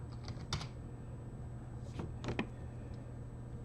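Fingers typing a command into a terminal on a computer keyboard, a few scattered key clicks and short bursts of taps at close range over a faint steady hum.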